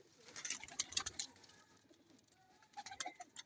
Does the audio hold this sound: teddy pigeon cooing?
yes